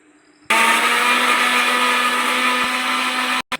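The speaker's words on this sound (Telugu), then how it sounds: "టమాటో ఇది మనం మిక్సీ చేసుకోవాలి" A mixer grinder runs on tomatoes, kicking in suddenly with a loud steady whirring hum that holds for about three seconds, then cuts out with a short restart.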